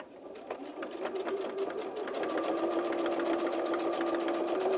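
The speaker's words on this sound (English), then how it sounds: "now I'm going to take this over to the sewing machine and I'm going to sew that top edge of the pouch" Sewing machine stitching the top edge of a fabric coin purse, a steady close mechanical whir with a fast even needle rhythm building slightly and running continuously throughout.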